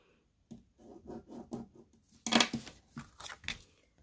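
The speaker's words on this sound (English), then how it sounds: "So I'm trying to score this as well as I can to make sure that I only have to do one cut." Blade scoring paper, a series of short, faint scratching strokes close by, with a louder, harsher scrape partway through and quiet gaps between strokes.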